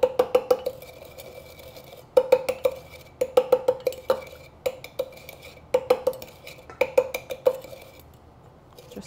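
A spoon stirs brown sugar into rye whiskey in a glass for a Sazerac cocktail, giving bursts of rapid bright clinks and ticks against the glass, separated by short pauses, close and fairly loud, with no talking.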